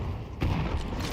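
A grenade explodes in Counter-Strike, one sudden muffled boom midway with a low rumble trailing off, set against ongoing game background noise.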